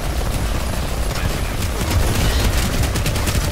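Dense gunfire rattles continuously in a Planetside 2 battle on PS4, overlapping automatic bursts and scattered shots filling the whole stretch with no break.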